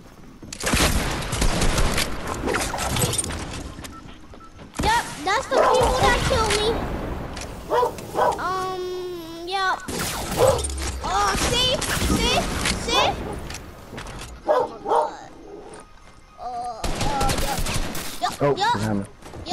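A suppressed gun in a video game fires in repeated bursts, with young voices talking and shouting excitedly over and between the shots.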